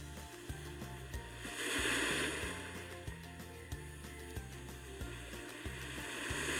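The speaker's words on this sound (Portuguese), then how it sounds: "Bora ver praia calma pra ver como é que é." Calm beach waves from a sleep sounds app wash in a soft, steady, quiet surge, with a gentle swell and a faint rhythmic low pulse beneath the hiss.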